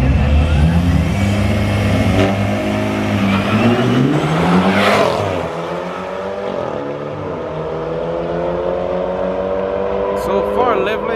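Two BMW cars race on a late-night street in Mexico, engines roaring loud and close with rising revs and gear shifts, then fading as they pull away. Voices talk over the engine noise.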